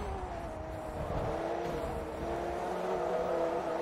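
A Porsche Carrera engine in Forza Motorsport 3 drones steadily at moderate volume, its pitch rising gradually as it revs through a race, with no voices over it.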